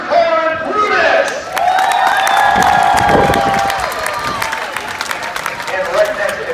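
A crowd at a monster truck show in Medina, Ohio cheers and claps for driver Chris Bergeron and the truck Brutus, a sustained roar of applause and shouts with an announcer talking over it.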